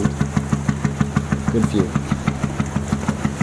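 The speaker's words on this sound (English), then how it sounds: "listen to that sound. I wish my engine had that sound." A marine engine idling near a harbor on the west coast, chugging in a steady loud rhythmic thump of evenly spaced firing pulses, close by, with a brief spoken remark over it.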